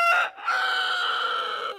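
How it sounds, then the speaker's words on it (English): A rooster crows loudly and close, a short opening note then a long drawn-out cry that trails off. "That rooster loves to crow."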